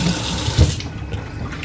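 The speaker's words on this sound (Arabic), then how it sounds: "بلاتي غير نغسل ليديا" Hands washed under a running kitchen tap, a loud close stream of water splashing steadily into a sink for the whole moment.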